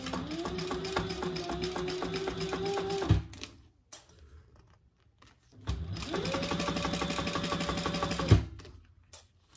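A sewing machine stitches a tote bag panel in two runs of fast, even needle chatter with a motor whine, each lasting a few seconds and separated by a short pause.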